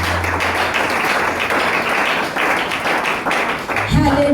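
Congregation clapping to acclaim Jesus at a church service, steady overlapping applause with a voice over it.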